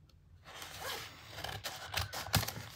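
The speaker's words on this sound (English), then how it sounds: "Let me actually just use my scissors so I don't ruin this bag." Scissors snip through a plastic bag during an unboxing: a few quiet, close crisp cuts with rustling between them, the last snip the sharpest.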